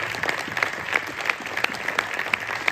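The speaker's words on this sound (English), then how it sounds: "if you can give them a round of applause" Audience applause at a wrestling Hall of Fame induction ceremony, steady clapping from a crowd with a few sharper individual claps standing out, continuous throughout with no talk.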